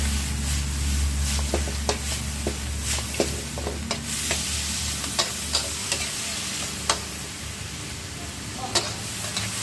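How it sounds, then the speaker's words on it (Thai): Fried pork tossed with Chinese kale in a hot wok, a steady close sizzle of frying with repeated sharp scraping clicks of a spatula against the pan, no talking. "หลังจากนั้นเราก็ใส่หมูทอดลงไปผัดให้เข้ากันเลยครับ"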